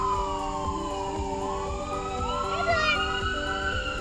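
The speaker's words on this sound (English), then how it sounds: "Ambulance." An ambulance siren wails steadily at moderate distance, its pitch holding and gliding throughout, with people talking nearby over it.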